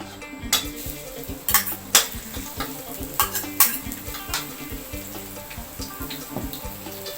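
Garlic stir-fries in oil in a pan for a vegetable stir-fry, a continuous sizzle broken by repeated sharp clanks and scrapes of a utensil against the pan.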